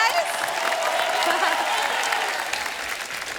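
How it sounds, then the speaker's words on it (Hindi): A studio audience on a comedy talk show claps loudly and steadily, a thick wash of applause with a voice speaking over it before the clapping eases slightly near the end. "जोरदार तालियां हो जाए सबके लिए।"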